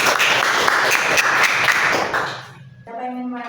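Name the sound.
applause for group 2 in a classroom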